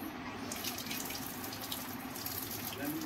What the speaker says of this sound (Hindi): तो हम इसके ऊपर पानी डालेंगे